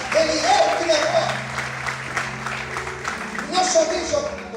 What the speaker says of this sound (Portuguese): Quem acredita nisso, aplauda e adore ao Senhor